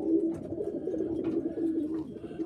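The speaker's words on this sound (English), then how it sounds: "really nice pigeon" A pigeon hen at a bird show coos softly and repeatedly up close, a low throaty rolling murmur in a steady rhythm over faint background noise.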